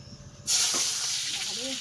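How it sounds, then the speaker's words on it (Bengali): Onions drop into hot oil in a wok over a rural clay stove and burst into a sudden loud, steady hiss that sizzles on. Quieter room sound comes just before, and a voice murmurs faintly near the end. "তো এবার কড়াইতে পেঁয়াজ দিয়ে দেবো"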